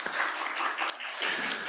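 Audience applause follows a panel discussion at a knowledge session, a steady wash of many hands clapping at moderate volume with a brief dip partway through.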